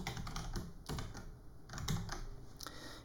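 Computer keyboard clattering under quick, continuous typing of code, close and steady with a few brief pauses between bursts of keystrokes.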